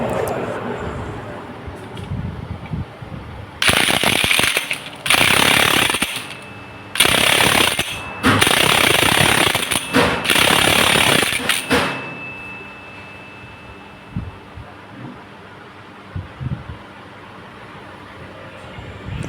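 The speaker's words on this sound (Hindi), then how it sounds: "ये जो पुलर है पुलर को फंसाने के बाद इस नाट को हमें टाइट कर लेना है।" The clutch nut on a KTM Duke 250 is tightened with a clutch puller fitted, in about five loud, harsh power-tool bursts close by. Quiet clinks and tool handling follow.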